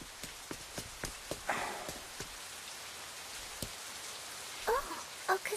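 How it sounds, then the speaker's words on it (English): Rain falls in an animated drama scene, a soft steady patter with scattered sharper drops and a few brief louder splashes, heard without talk. "It's raining."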